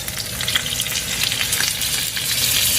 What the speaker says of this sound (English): And the key is allowing it to sear, okay?